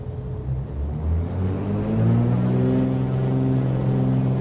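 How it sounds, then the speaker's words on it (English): Airliner engines at takeoff power as the plane rolls down the runway in a flight simulator: a deep, steady rumble with engine tones that climb in pitch, growing slightly louder, and no voices. "Takeoff power set. We're rolling."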